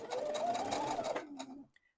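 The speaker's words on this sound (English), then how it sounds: "I'm just using my 1/4 inch foot and I'm sewing 1/4 inch along the edges" A sewing machine with a 1/4 inch foot runs a short, quick burst of stitching along fabric edges, a soft rapid whir that stops after a second and a half and leaves a brief faint click.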